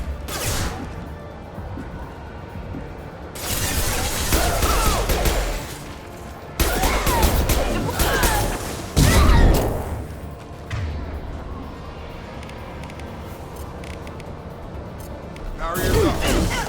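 Heavy gunfire in Mass Effect 2 combat: bursts of loud, close shots and impacts come in several clusters, with quieter gaps between them and game voices talking over parts of the fighting.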